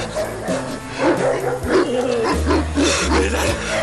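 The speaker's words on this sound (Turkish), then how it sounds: "Ne aç kurdu? Birkaç tane köpektir o." Several dogs bark and yip in a busy, overlapping clamor, loud and close, mixed with other noise and a low droning tone.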